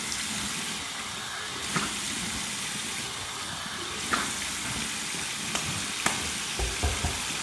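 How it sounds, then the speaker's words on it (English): Warm water runs from a tap into a collapsible travel shave bowl for a rinse after shaving, a steady close splashing trickle with a few small knocks and clicks, with no talk. "Warm water rinse."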